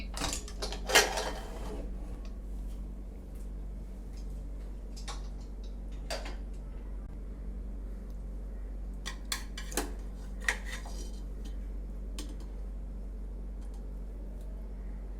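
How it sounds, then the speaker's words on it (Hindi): Metal clinks and light clatter from opening a pressure cooker of mutton in a home kitchen, scattered clicks and taps of lid and utensil over a steady low hum, with no voices. "अब कुकर को ओपन करके मटन चेक करेंगे।"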